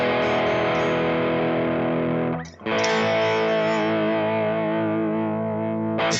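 Heavily distorted electric guitar chords from Duncan P90 pickups ring out loud and sustained through a dimed Deluxe Reverb amp model, with a brief scraping break before the next chord.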